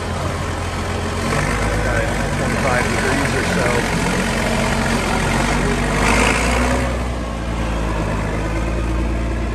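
A 1980 International 1086 tractor engine runs steadily at idle on a very cold day, a continuous low rumble up close, with someone talking over it and a brief rise in noise midway.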